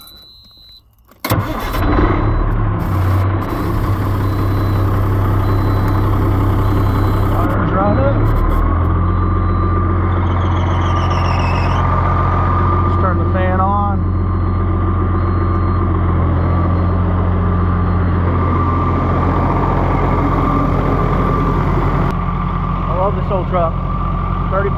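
A freshly washed and degreased truck engine cranks and catches after a short quiet moment, then settles into a loud, steady idle with a low rumble and a few squeaky chirps along the way.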